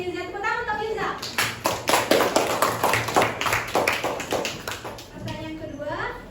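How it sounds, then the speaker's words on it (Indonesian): Classroom audience clapping for a student named Yuza during a school guidance session, a burst of sharp claps lasting several seconds, with a child's and an adult's voice speaking before and after. "Tepuk tangan untuk Yuza"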